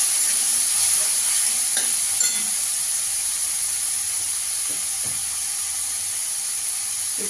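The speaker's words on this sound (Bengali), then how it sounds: "চিকেনটাকে একটু ভেজে নেব।" Seasoned chicken with pepper, salt and lemon juice fries in a pan, giving a steady soft sizzle and hiss with a few faint stirring knocks.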